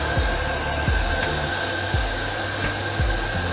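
A torch heating a copper plumbing fitting for soldering gives a steady, close roaring hiss throughout, with a few faint clicks and ticks underneath.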